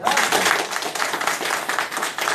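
An audience claps hands together, a dense, steady patter of many palms filling the space at close range, without pause and with no talk over it.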